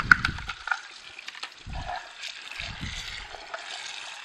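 Water runs and trickles through a Sana EUJ 808 juicer part to rinse out leftover pulp, a soft, uneven splashing flow with a few louder low spurts and clatters close by.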